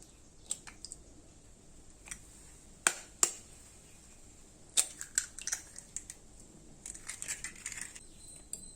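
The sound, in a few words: cracking two eggs into a bowl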